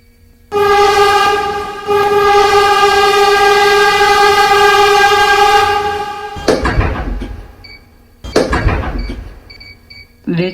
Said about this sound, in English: This is a Times Square 42nd Street bound Q local train.